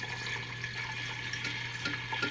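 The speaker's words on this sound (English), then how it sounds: "All right, Maria, you can pour in the water." Water is poured slowly into a pot of split pea and ham soup with a ham bone, giving a steady soft splashing and trickling with small bubbling bursts throughout.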